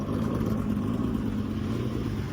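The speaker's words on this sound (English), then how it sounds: "I got the car idling" An 8th-generation Honda Civic engine idling, a steady low rumble held evenly and close, with radiator fans running alongside.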